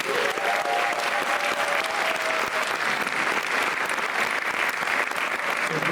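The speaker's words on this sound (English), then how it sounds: "let's give her a round of applause" Audience applause at a live school showcase performance, a sustained dense wash of clapping from a large crowd, steady and loud for the whole stretch with no pauses.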